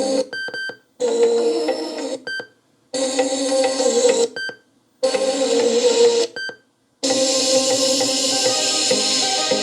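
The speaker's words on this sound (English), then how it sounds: "these beeping sounds was the one that I was talking about" Loud, bright electronic tones from a Sony SRS-T70 speaker play in long bursts separated by brief silences, with short high beeps marking the gaps; close and fairly harsh.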